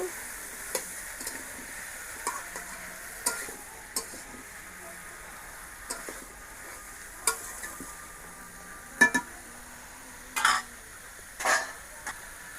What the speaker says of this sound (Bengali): কচু আলু একসাথে মশলার সাথে কষিয়ে নেবো